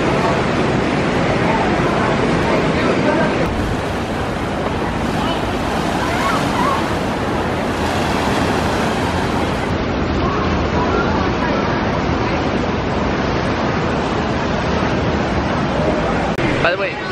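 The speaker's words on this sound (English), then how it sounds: "We're gonna do the rapids ride. Thunder River raft ride." Rushing whitewater on the Thunder River rapids raft ride at Lake Compounce roars as a constant loud wash, with wind buffeting the microphone throughout.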